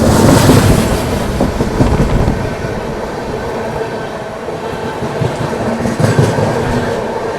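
The Hadapsar Rewa Superfast Express running on the line between Balaghat and Nainpur, a loud continuous rumble of wheels and carriages with rattling clatter throughout, no voices.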